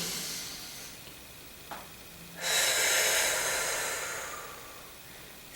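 One slow, deep breath: a soft, faint inhale, then a long, loud, breathy exhale that gradually fades, close to the microphone, with no talking.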